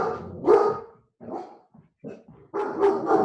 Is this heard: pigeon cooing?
no